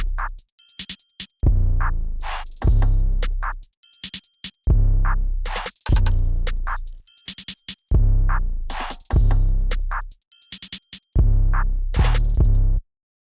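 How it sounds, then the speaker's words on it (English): Full drum pattern for a dark plugg type beat built in FL Studio, with booming 808-style kicks, snappy hits and fast hi-hat rolls looping in a steady, loud rhythm over about thirteen seconds, with no voices. "My full drums will sound like this."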